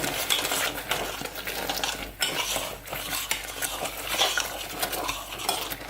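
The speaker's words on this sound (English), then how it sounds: "And just keep on stirring this. We want all that cheese to melt" A spoon scrapes and clinks against a pot while stirring cheese melting into milk for a sauce, with continuous close, uneven scraping strokes and light metallic taps.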